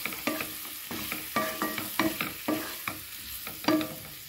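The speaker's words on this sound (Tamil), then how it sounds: "இப்போங்க ரெண்டு நிமிஷம் நல்லா மிக்ஸ் பண்ணி விட்டுக்கலாங்க." Rice flour batter stirred in a hot pan, scraping in a steady rhythm of close, distinct strokes over a continuous frying sizzle, with no voices.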